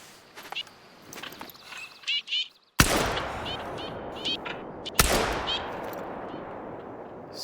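Two loud shotgun blasts about two seconds apart while duck hunting, close and booming with a rolling tail, after a stretch of quieter rustling and brief sounds of people nearby.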